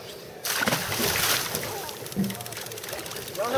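Cod released back into the sea, a near splash and sloshing of water against a boat hull, with wind and someone talking over the watery noise.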